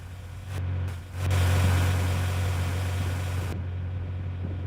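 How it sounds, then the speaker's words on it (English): Vehicle engine idling in the Twisted storm-chasing video game: a steady low drone that swells after a brief dip, then holds level and a little muffled, with no talk over it. "When you get exactly right here with the camera, the engine noise is muffled."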